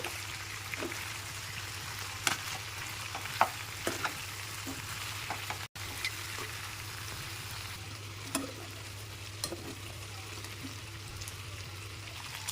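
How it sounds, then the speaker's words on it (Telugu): Chicken pieces frying in a hot pan give a steady, close sizzle with occasional sharper crackles and pops, continuous throughout with no talking. "ఇప్పుడు చికెన్ని బాగా ఫ్రై చేసుకుందాం."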